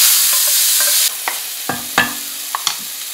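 Food sizzling in a hot pan during pasta-dinner preparation: a loud bright frying hiss at first, then it drops and sharp clinks and scrapes of a utensil against the pan ring out over softer sizzling.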